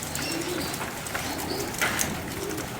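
Racing pigeons, stock cocks and hens in a loft, coo softly as they are fed. Repeated low, throaty coos sound close over a busy bed of faint rustling and chatter from the birds.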